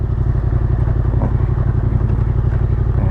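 A big bike with a loud aftermarket exhaust idles with a steady, throbbing low rumble, close and continuous, with a faint clatter as it rolls onto a lawn in Khon Kaen.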